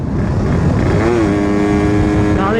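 A Suzuki Satria 2 two-stroke motorcycle with a modified piston revs hard, its loud, close engine note climbing steadily in pitch under a buzzy, continuous roar.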